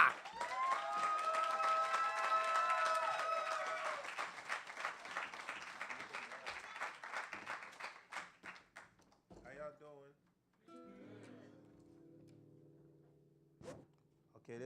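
A crowd in a performance lounge applauds as a guest arrives, with dense clapping that thins out into scattered claps, then voices and musical tones take over.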